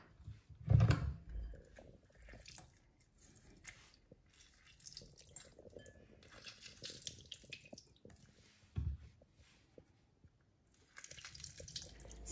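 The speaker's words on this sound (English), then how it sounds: "I'm just cutting all the lemons and taking the juice out first in a bowl" Lemons squeezed by hand into a bowl for lemon shikanji, with wet squelches, drips and trickling juice up close, a louder splash near the start and sporadic soft liquid sounds throughout.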